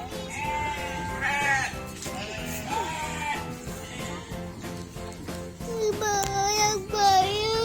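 Several goats bleat repeatedly at a sheep farm in Nakhon Nayok, loud and close, some calls rising and wavering, over a busy background of outdoor noise and a child's chatter.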